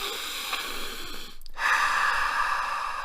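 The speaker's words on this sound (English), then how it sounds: "Take a deep breath with me." A person takes a deep breath, an airy inhale followed by a brief pause and a longer, fuller exhale, close and clear with no talking.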